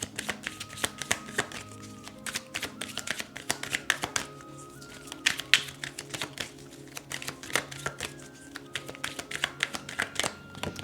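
A tarot deck is shuffled steadily for a pick-a-card reading, with rapid, close riffling and slapping of cards running throughout without pause.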